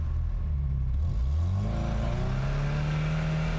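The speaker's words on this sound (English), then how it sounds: "Let's finally do a test drive." A Lamborghini sports car accelerates hard on a test drive, the engine note climbing smoothly in pitch through the rev range over a steady rumble, heard from inside the car with no voices.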